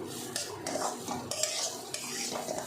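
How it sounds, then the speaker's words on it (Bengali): Masoor dal (red lentils) being lightly dry-fried in a pan: soft, quiet scraping and stirring strokes with a faint sizzle underneath, close by and without talk. "মুসুরির ডালটা যদি এভাবে একটু হালকা ভেজে রান্না করা যায়"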